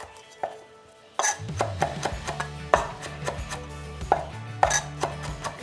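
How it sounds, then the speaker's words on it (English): A knife chops fresh ginger on a cutting board in a kitchen, a series of crisp, irregular taps close to the microphone with no talking. "I'm going to mince about 1 teaspoon of ginger"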